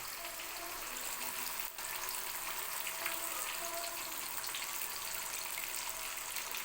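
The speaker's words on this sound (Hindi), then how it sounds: "आँच को हम अब स्लो कर देते हैं ताकि आहिस्ता आहिस्ता ये फ्राई हो" Fish frying in a pan over low heat, a steady close sizzle with soft crackle running evenly throughout, with no talk.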